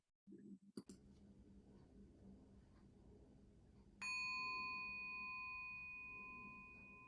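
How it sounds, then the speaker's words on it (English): A meditation bell rings once at the close of a group practice session, its clear tone sustaining steadily after a brief low murmur and a click beforehand. "Taking a moment to receive the sound of the bell as we approach the end of our practice"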